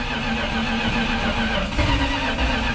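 A junkyard Plymouth Fury with a carburetor needing tuning restarts and runs, giving a loud, close, rough engine drone with a low rumble that swells slightly toward the end.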